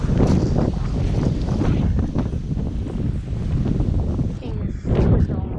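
Strong storm wind gusting hard against the microphone in dry conditions, a loud, continuous roaring buffet that briefly dips near the end before surging again.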